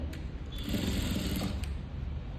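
Sewing machine stitching a sleeve along its lining and border, a steady close whirring run of rapid needle strokes with a brief faint mechanical tick, no talking.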